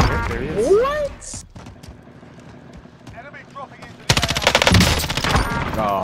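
Rapid automatic gunfire in a shooter game: a dense, loud stream of shots that kicks in partway through, after quieter movement and scattered clicks, with voices talking at points.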